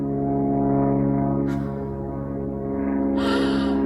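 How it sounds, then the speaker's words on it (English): A propeller airplane drones overhead outdoors near a coastal garden, a loud steady engine hum that holds throughout with a slight swell toward the end. "Airplane."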